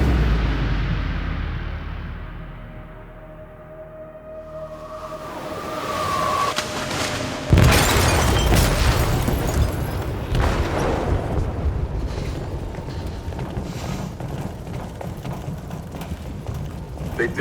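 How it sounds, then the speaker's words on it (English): Explosive blast tearing through a ship's hold in Detroit: Become Human, a sudden loud boom after a quieter stretch of low rumble and metallic creaks, followed by sustained roaring, churning noise. "They detonated an explosive in the hold. The ship is sinking, sir."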